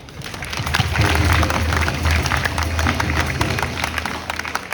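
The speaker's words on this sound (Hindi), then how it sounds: "एक बार आप लोग अपने लिए ताली बजाओ" A school audience at an Azadi ka Amrit Mahotsav celebration in a Delhi government school claps for itself, a loud sustained wave of many hands with crowd noise under it.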